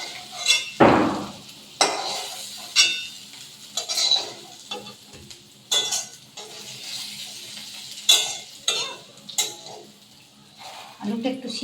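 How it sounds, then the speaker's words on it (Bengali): Pieces of pre-boiled mutton go into a hot pan of oil for biryani, giving a loud opening splash and sizzle followed by repeated bursts of stirring and scraping, with someone talking over it. "আমি এবারে মটনটা বসিয়ে দেবো।"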